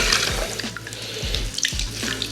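Water sloshes and splashes in a bucket as a wet wash cloth from a rinseless car wash plunges in, with a few gurgles and drips, close and fairly loud with no voices.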